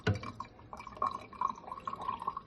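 Water pours into a one-piece plastic ice cube tray in a home kitchen, a run of small trickles, splashes and drips that come close and fairly quiet, with no talking.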